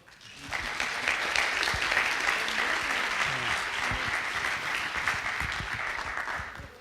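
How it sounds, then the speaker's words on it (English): Sustained audience applause fills a conference panel session at an agile summit, a dense, steady wash of clapping from a room full of people that swells quickly and holds at full strength throughout. "Big round of applause."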